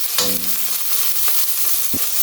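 Ginger, spring onion whites and chopped pickled chili hiss in hot oil in a wok for Dongpo pork hock, a steady close sizzle with a few brief scrapes and clinks, no voices.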